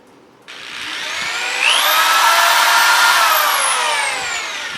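A power drill spins up with a rising whine, drilling into a Nerf blaster, then runs at a steady, loud, close pitch for several seconds before easing slightly.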